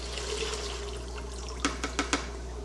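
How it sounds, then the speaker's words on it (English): Water pours steadily from an aquarium tank into a bucket with a soft, continuous rushing, followed by a few brief splashes near the end; no voices. "I'm gonna get just enough water inside of this bucket so that the fish are covered"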